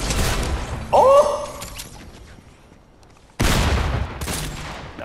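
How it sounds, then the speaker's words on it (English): Gunfire from a boss shotgun in a multiplayer shooter game, two heavy loud blasts about two seconds apart with a brief whooshing tone after the first, and no talking. "I picked up a boss shotgun and I just killed the whole team."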